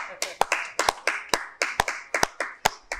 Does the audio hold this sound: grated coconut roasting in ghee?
no